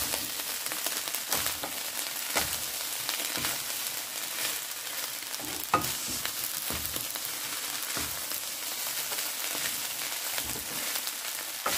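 Filling of carrots, peas, ham and egg being stirred and fried in a pan at home, a soft continuous sizzle broken by irregular scraping stirs, no voices.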